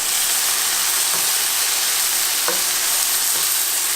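Hunter's chicken cooking down in a pan on a stovetop, a loud, steady close sizzle and hiss of evaporating liquid with faint occasional stirring knocks, no talking.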